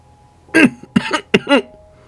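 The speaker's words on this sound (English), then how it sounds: "He coughs again, harder this time." A man coughs in four hard, closely spaced bursts, near and loud against a quiet background.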